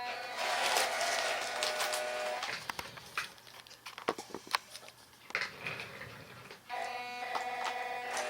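A 1/18 scale RC crawler with a funny-sounding ESC creeping slowly over a basement course, giving faint, high electronic whines and tonal buzzes broken by soft ticks and clatters of the tires on the terrain.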